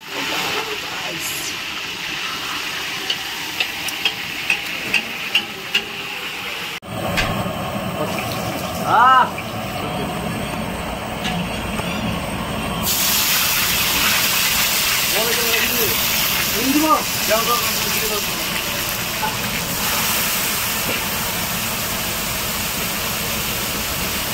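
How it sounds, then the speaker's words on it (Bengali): Food frying in a pan at a winter family picnic outdoors, a continuous loud hiss and sizzle that swells partway through, with voices talking over it. "ফ্রাই হচ্ছে।"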